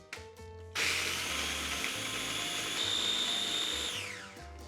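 A small food processor crushes biscuits for a no-bake cheesecake base, a motor spinning up into a steady whirring buzz with rattling crumbs and then slowing down near the end, heard close and alone.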